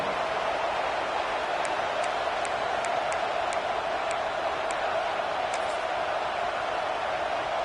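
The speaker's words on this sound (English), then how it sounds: "This crowd ready to make its presence known" College football stadium crowd, a steady distant roar of thousands of fans with faint scattered sharp claps or whistles above it, even and unbroken throughout.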